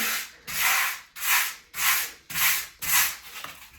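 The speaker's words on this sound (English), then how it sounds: "This stuff sands really nicely." Filler on a wall sanded by hand during a 1980s house renovation: six regular rasping strokes, each about half a second long, close and steady in rhythm, with no talking.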